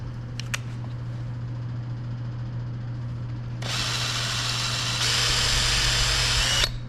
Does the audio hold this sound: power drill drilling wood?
yes